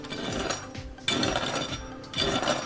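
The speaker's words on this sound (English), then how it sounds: "And if done correctly, your pork should sound like this." Crisp Cantonese-style roasted pork belly (siu yuk) skin tapped and scraped, giving dense crackly, brittle rustling in three close bursts separated by short quieter gaps.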